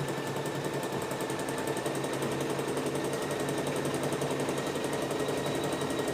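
A machine sewing buttons and buttonholes runs in a fast, even mechanical chatter, a rapid needle rhythm holding constant and fairly loud for several seconds with no voices.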